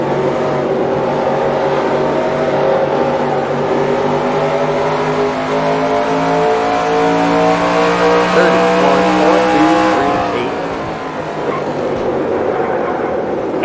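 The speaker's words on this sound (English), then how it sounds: "my car's gonna just let McMurray get under me here" Stock-car engines in NASCAR Racing 2003 hold a loud, sustained drone with rising pitch during a close on-track battle, then drop sharply as the throttle lifts before resuming at a lower note.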